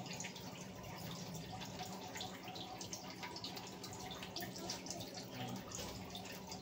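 Water pours steadily into a pot of fish curry, a faint continuous splashing and trickling heard close, with no pauses or talking.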